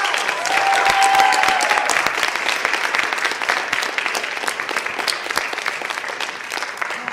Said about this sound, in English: let's give these poets one more round of applause.